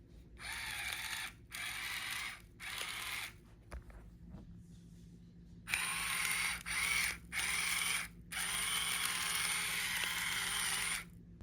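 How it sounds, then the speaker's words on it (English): A salt grinder is turned in short bursts, giving a dry, gritty ratcheting crunch that starts and stops with pauses between twists, close and fairly quiet, with a longer run of grinding near the end. "I'm only gonna test the salt grinder"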